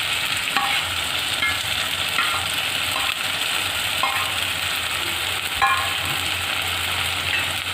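Chopped vegetables with capsicum frying in a pan for Punjabi khichdi, a continuous hiss of oil broken by occasional soft stirring scrapes, steady and close with no speech.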